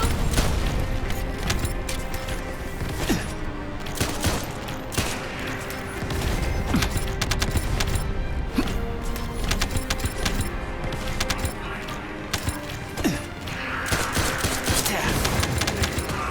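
Drone explosions and gunfire from the video game The First Descendant keep up a dense, continuous barrage of rapid shots and booms with sharp cracks throughout, loud and busy without letting up.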